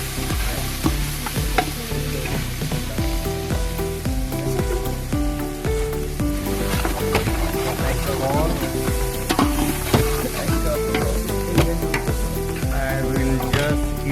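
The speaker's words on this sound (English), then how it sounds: "You can listen to the sizzling happening." Food with ginger garlic paste sizzles and crackles steadily in a hot pan, with scraping and clinking as it is stirred, loud and close throughout.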